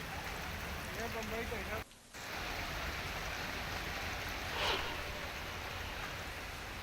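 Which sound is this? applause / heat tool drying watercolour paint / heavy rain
heavy rain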